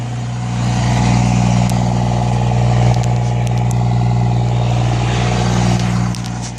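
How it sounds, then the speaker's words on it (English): A Cummins diesel engine high-idles after a cold start on a freezing morning, holding a loud, steady, close drone throughout. "and the high idle kicked in"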